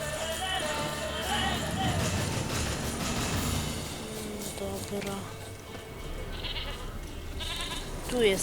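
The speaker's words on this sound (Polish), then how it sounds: "koza" A goat bleats repeatedly through a cluttered game soundscape, with a brief rattle of bells and other effects layered underneath.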